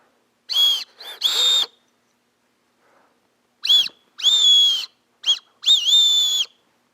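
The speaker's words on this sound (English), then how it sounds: "When's the last time you guys ever used a whistle?" An LC Fun Explorer tactical emergency whistle is blown in several loud, piercing shrill blasts, some short and some held for about half a second, separated by silence.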